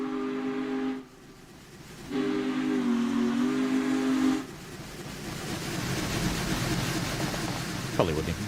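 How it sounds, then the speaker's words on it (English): In Train Simulator, a Union Pacific Challenger steam locomotive sounds its whistle in two loud, sustained blasts over the rumbling, chugging train, with a brief pause between them. "Probably wouldn't blow the whistle for such a tiny road"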